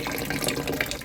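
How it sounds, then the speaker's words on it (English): Water runs steadily into a toilet cistern with a ball valve, a continuous splashing, gurgling rush that is close and fairly loud. "It's supposed to be loose like that when there is water running inside the cistern."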